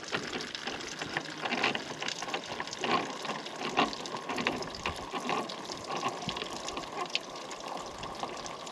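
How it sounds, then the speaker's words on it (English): Water gushes steadily from a tap or hose into a farm water tank, a continuous broadband rush with small splashy surges, fairly close and alone without talk. "Get some water flowing and fill up my tank."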